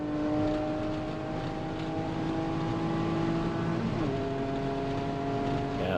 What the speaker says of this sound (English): it's so weird hearing the low RPM, like is this an S2000?